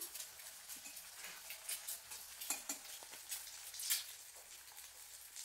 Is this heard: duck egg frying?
yes